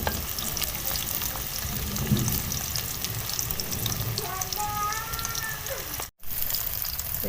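Chopped onions frying and being stirred until browned for an aloo shimla mirch dish, a continuous dense sizzle with scraping and stirring, heard close; a brief cut interrupts it near the end.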